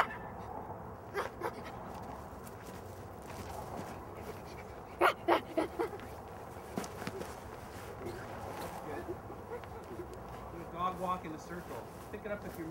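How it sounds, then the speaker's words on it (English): A dog on a film set gives a quick cluster of sharp barks partway through, set among softer yips, whimpers and panting, with quiet voices in the background. "just give me some nice big barks"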